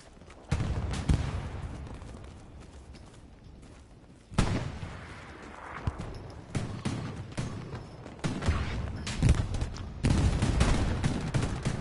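Battlefield gunfire in the World War II shooter Hell Let Loose: repeated bursts of rifle and machine-gun shots, some loud and close and others more distant, keep coming throughout.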